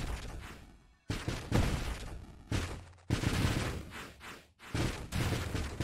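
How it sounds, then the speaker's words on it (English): Missiles launching in the space shooter Nova Drift, loud whooshing bursts that each swell and fade, arriving in several waves with short gaps between them. "my missiles are slow enough at this point that they actually will, like reorient themselves to new targets"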